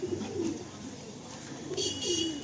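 Pigeons in a loft cooing softly, low repeated coos over a faint background murmur, fairly quiet and close.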